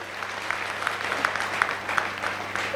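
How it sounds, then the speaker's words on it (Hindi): Applause at a Safe Shop Diamond recognition ceremony, a soft, fairly distant patter of clapping with a few sharper claps standing out, steady for the whole moment. "तालियां हो जाए।"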